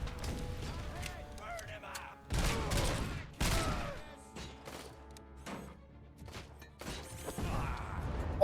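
Grenade blasts in the RoboCop: Rogue City video game: several loud, sharp explosive bursts with crashing debris stand out over a busy, mechanical game mix, arriving in irregular succession.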